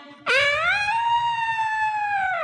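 A single voice imitates an elephant's trumpet at a Sunday school gathering, one long sustained bright tone that starts abruptly and holds steady, close and loud.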